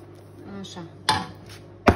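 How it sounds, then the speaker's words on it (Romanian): A homemade meringue cake layer being tapped in its baking pan to settle, with two sharp, loud knocks about a second apart against a quiet kitchen background. "Bat un pic de blat să se așeze bine."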